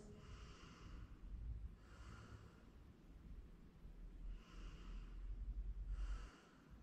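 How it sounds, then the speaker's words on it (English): Slow, deep breathing during a yoga session, four long breath cycles of steady, close airflow with soft low rumble between them, no talking. "And just 3 more deep breaths."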